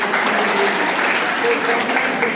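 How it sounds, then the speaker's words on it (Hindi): A crowd of schoolchildren claps vigorously at a college event, steady loud applause throughout, with faint voices mixed in. "अरे वाह, जोरदार तालियां"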